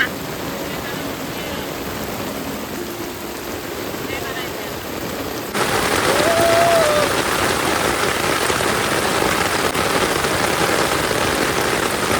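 Dense, steady rainfall hisses over a paddy field during rice transplanting, growing noticeably louder and heavier about halfway through.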